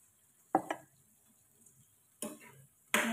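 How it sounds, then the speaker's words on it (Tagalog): Adobong egg and eggplant is stirred in a pan: a few separate scraping, clacking strokes of a utensil against the pan, with short gaps of near-quiet between them. "Mix lang natin, haluin lang natin."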